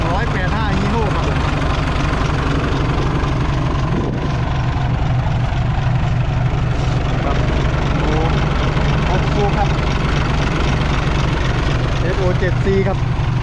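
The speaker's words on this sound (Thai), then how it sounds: "เครื่อง185ฮีโน่ครับ" A Hino HO7C 185 hp diesel engine idles in a modified farm truck built to haul 17 tons of sugarcane, a loud, close, steady low rumble with someone speaking over it.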